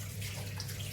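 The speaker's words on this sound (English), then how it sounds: "I'm gonna wash my hands" Water runs steadily from a tap while hands are washed under hot water at a kitchen sink during baking cleanup, a continuous close hiss with no voices.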